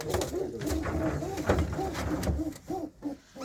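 Soft, rounded coos of a yellow-eyed pigeon repeat in a steady rhythm, close by, with some low background rumble and faint voices around them.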